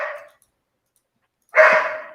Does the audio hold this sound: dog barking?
yes